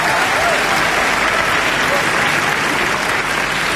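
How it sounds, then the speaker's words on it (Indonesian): Studio audience applause on the Indonesian dating show Take Me Out Indonesia, a loud, continuous roar of clapping that holds evenly throughout. "Dan mari kita berikan tepuk tangan untuk lebih semangat lagi malam ini."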